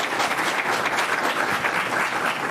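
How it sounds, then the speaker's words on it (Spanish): An audience at a medical education conference lecture applauds a speaker, a steady, moderately loud wash of many hands clapping with no talking over it. "Un fuerte aplauso, por favor, para el doctor Sánchez Mendiola."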